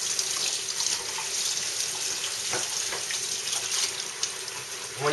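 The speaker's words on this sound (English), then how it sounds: "let me wash my hands here" Tap water runs steadily into a sink while hands are washed beneath it in a kitchen during food preparation, a continuous close splashing hiss with small shifts as the hands move through the stream.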